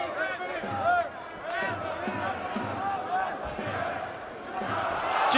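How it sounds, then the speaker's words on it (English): An arena crowd at a heavyweight boxing match between Kubrat Pulev and Hughie Fury roars and cheers continuously, rising in surges, with a commentator talking over the noise throughout. "Big noise every time the home fighter lands"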